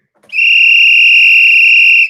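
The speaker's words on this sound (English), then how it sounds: "You know how to bring out the whistle for that" A basketball coach's whistle gives one long, loud, piercing blast held for nearly two seconds, sounding alone and clean.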